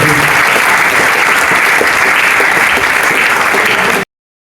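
Church congregation applauding at a Baptist evangelical pastors' consecration service in Burkina Faso, a loud, sustained burst of dense clapping that fills the room, then cuts off abruptly near the end.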